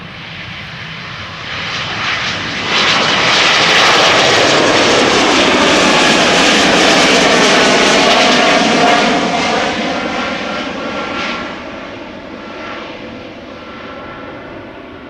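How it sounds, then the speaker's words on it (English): A KLM Embraer E2 jet bound for Copenhagen departs up close at Amsterdam Schiphol, its engine roar swelling loudly over a few seconds, holding a sustained, broad rumble with shifting whine, then slowly fading as it climbs away. "is an E2 Embraer coming this way"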